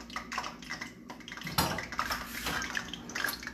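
Fish being washed in water, with sloshing, splashing and dripping close by, louder midway through and continuing at a moderate level without speech.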